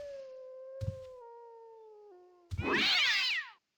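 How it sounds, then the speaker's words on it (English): A warbling, slowly falling tone gives way to a harsh, screeching monster death cry from the video game Ultima Online, like two cats yelling at once, loud and close for about a second before cutting off. "It's like two cats yelling on top of each other."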